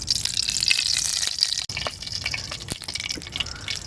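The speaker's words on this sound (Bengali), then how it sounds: "কড়াইতে সরিষার তেল দিয়ে দিচ্ছি" Mustard oil poured into a hot wok in a village kitchen, a steady close liquid gush with a broad hiss that briefly cuts out, then continues with small crackles and drips.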